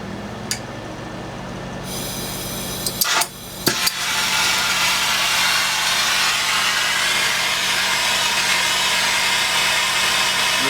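A jeweler's soldering torch ignites with a few sharp clicks and pops, then settles into a steady, loud hissing roar alongside a running exhaust fan, continuous and close with no talking.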